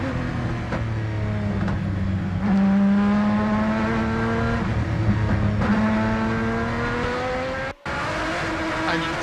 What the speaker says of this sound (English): Through the complex with the Gigawave car.